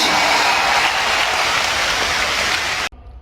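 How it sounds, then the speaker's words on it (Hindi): An audience at a hospital inauguration ceremony in Faridabad breaks into loud, sustained clapping that fills the space evenly, then cuts off abruptly near the end. "और आपके हाथ की तालियां, जरा हाथ उठाकर"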